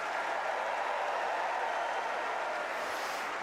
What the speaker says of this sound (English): fantastic moment for Belinda Bencic, and warmly applauded, understandably so, by the big crowd